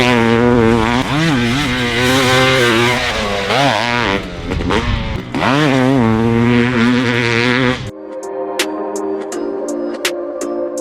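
Custom SLR Honda CR500 two-stroke dirt bike, converted from a 2006 CR500AF, running loud and close with rising and falling revs and sharp throttle blips, then idling with a crackling, popping exhaust.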